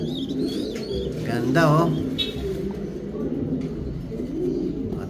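Opal Kuypers pigeons, a breeding pair, coo and chirp softly in a loft amid steady background noise, with a brief exclamation from a person partway through.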